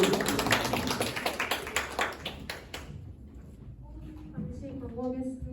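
A church congregation at a high school worship service claps together loudly for a few seconds, then the applause drops off and a voice speaks over quieter background.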